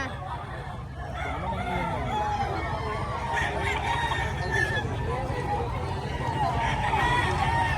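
Chickens at a Bocaue tiangge market crow and cluck loudly and steadily throughout, close by, with people talking underneath the birds.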